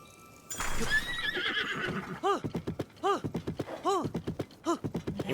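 A horse in The Legend of Zelda: Tears of the Kingdom lets out a loud, close whinny, followed by a run of rhythmic clip-clopping hoofbeats.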